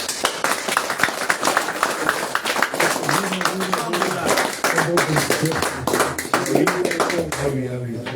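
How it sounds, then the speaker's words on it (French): A crowd at a political party rally in Cameroon claps and applauds steadily, dense rapid hand claps filling the space while a voice speaks over them. "acclamons pour le communal"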